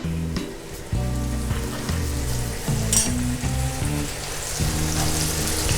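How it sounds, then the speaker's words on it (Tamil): A pot of tamarind water for sundakkai puli kuzhambu bubbles and simmers steadily at a rolling boil, a continuous crackling, fizzing sound up close with no voices. "இப்போது புளி தண்ணி வந்து நல்லா கொதிச்சிருச்சு."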